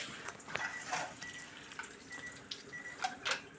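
Kangen water machine running water through its cleaning cycle, a soft trickle and patter of flowing water with scattered drips and splashes, fairly faint and close.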